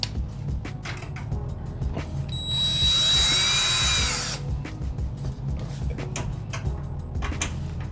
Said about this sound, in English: Drill. Go fast.